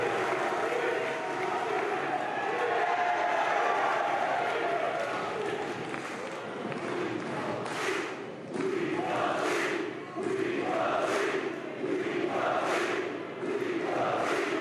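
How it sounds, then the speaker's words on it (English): A sold-out crowd at a wrestling show in the NYC Arena roars steadily, then breaks into rhythmic chanting bursts, loud and continuous throughout. "This crowd loves it."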